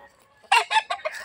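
A sweater roundhead gamefowl rooster from a game farm crows nearby, a loud, close, multi-part call in several rising and falling bursts.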